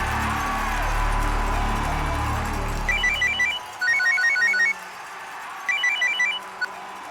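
A telephone rings in three short bursts of bright electronic trills, separated by pauses, after a low background hum cuts out, with faint room noise.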